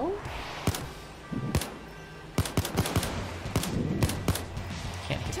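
Gunfire in the co-op shooter Payday 2, including pistol shots aimed at a sniper: sharp, scattered shots in irregular bursts, with players talking over the action.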